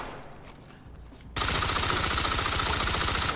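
Rapid automatic gunfire erupts abruptly after a quieter opening in the tactical shooter Ready or Not, a loud, steady stream of closely spaced shots continuing to the end.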